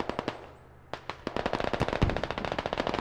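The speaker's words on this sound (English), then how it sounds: "That's more bullets coming, more fire coming from around 60 degrees, Chris" Rapid automatic gunfire in the infantry shooter game Squad, with dense bursts of sharp shots ringing out after a brief lull, loud and close, continuing in fast rattling volleys.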